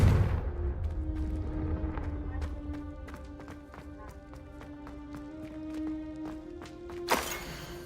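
A fiery Confringo explosive spell is cast in the Hogwarts Legacy video game. A single sharp, loud blast lands near the end over sustained tonal game music and light tapping footsteps.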